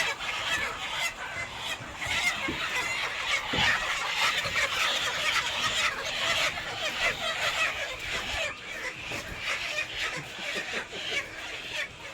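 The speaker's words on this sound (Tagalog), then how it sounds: "ang dami yung manok" Dense clucking and squawking from many chickens fills the air steadily, a noisy flock heard from nearby with occasional louder calls.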